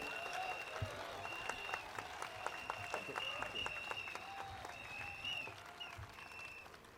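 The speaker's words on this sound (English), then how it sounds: "Can you give a rousing round of applause to Encik Siddiq Sanif?" Crowd at an outdoor political rally on a hockey pitch clapping for a speaker, fairly faint and distant, with a sustained hum and tonal noise running through the scattered applause.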